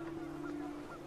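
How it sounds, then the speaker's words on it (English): Geese honking in panic within the video game What Remains of Edith Finch, a faint sustained nasal honk with a couple of brief higher calls over a low background. "panicked geese appeared and quickly went"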